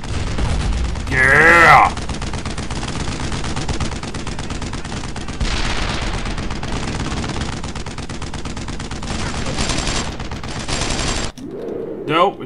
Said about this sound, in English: Your gun's more rapid fire than his.